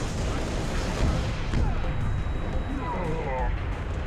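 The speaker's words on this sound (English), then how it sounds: "Keep shooting, Noble Six." Rapid gunfire and booming blasts in the Halo Reach video game make a dense, continuous roar of battle, with voices mixed in.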